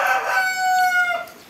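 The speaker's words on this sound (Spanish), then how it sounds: "Maldito gallo." A rooster crows in the video game Brawl Stars, a single loud, drawn-out cock-a-doodle-doo heard alone, sustained and wavering before tapering off at the end.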